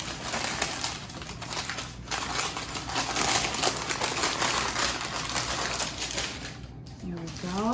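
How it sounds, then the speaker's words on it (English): Noisy paper crinkles and crackles continuously as it is peeled off a rolled-out pie crust, close and fairly loud, a steady rustle lasting several seconds. "Pull off my noisy paper."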